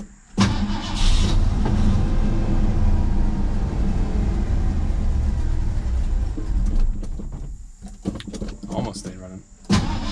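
Ford Ranger pickup engine cranking, catching and starting after sitting for years, a loud rough rumble that surges then stumbles and sputters near the end, with brief voices mixed in.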